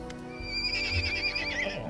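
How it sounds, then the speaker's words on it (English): Ponies in the Pathfinder: Kingmaker video game give a loud, drawn-out whinny with a rising, wavering pitch, alone and close, over a low rumbling game background. "they snort loudly and neigh as you approach"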